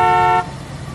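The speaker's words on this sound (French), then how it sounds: "doucement avec le klaxon" A car horn blares in one steady, loud blast for under half a second and cuts off sharply, leaving low street noise behind.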